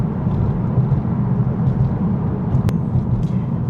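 A Mazda car with a 2.5 turbo engine accelerates as a steady, low, droning engine rumble heard from inside the cabin, without any break in its hum.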